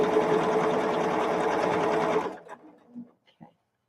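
A sewing machine fitted with an open toe foot stitches quilt fabric in a fast, steady whir for about two seconds, then stops, followed by a few faint handling sounds.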